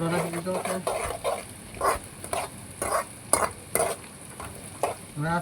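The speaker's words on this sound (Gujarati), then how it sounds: "મીઠો લીમડો નાખી દીધો છે" Curry leaves crackle and sizzle in hot tempering oil with green chillies for a khaman tempering, close up, in uneven bursts of spitting and stirring rather than a steady hiss.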